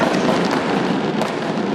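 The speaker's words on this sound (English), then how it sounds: "serenaded by, guess what, lots and lots of loud fireworks" Loud fireworks bursting over a Maltese street festival, a dense continuous crackle and rumble filling the whole stretch without pause.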